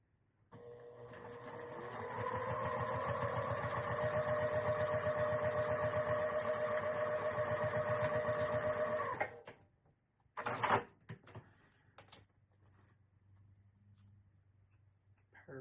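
A sewing machine top-stitching thick fabric on a coin pouch runs steadily for about eight seconds with an even mechanical whir, then stops, followed by a few handling clicks.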